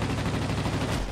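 Rapid machine-gun fire from a plane in World of Warplanes, a dense continuous burst of loud rattling shots filling the whole short moment.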